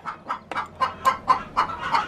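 A chicken clucks repeatedly in a steady series of short, close calls during lawnmower repair, with no talking.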